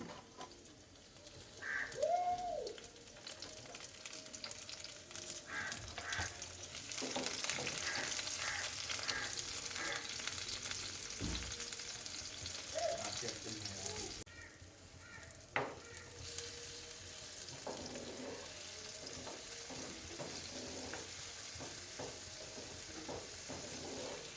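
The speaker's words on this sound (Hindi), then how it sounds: "अब सबसे पहले हम तेल में प्याज शामिल करेंगे।" Steady sizzling of onions frying in hot oil for black masoor dal, with occasional stirring scrapes and faint clinks, continuous and moderately close, no voices.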